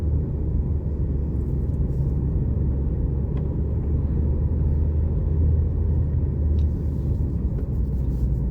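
A car engine pulls in second gear up a mountain pass with a steady, loud, low rumble and road noise throughout and no speech.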